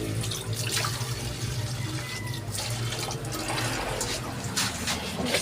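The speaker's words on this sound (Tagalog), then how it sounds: "Tara, hugas tayo ng kamay guys." Hands being washed under a running kitchen tap after breakfast, a steady close rush of water splashing into the sink with small shifts as the hands move, continuous for several seconds with no talking.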